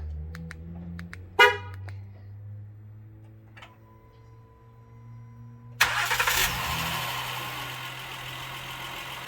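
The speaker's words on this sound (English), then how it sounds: "Parking lights are on, remote start works." A 2015 Honda Pilot after a remote start installation: a few faint clicks and a short chirp early on, a quiet hum, then the engine abruptly cranks and catches into a loud steady idle.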